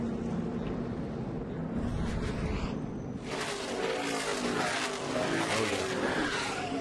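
A NASCAR Cup Series race car spins out with a major engine failure, tires skidding and squealing across the track in a loud, sustained screech that swells midway, with no voices.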